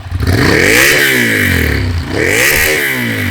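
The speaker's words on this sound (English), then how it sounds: "Now let's give it some revs." A Ducati Monster motorcycle engine revs hard twice, climbing in pitch and dropping back between blips, loud and close.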